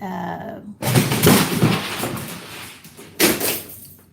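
A cat knocks over a lamp and chair indoors: a loud crash and clatter of objects falling, followed by a second sharp thump, close by.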